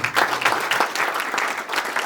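Audience applause at a Hindi kavi sammelan poetry event at a nursing college, a dense, steady clapping from a large crowd sustained throughout with no voices on top.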